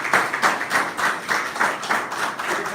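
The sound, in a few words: audience clapping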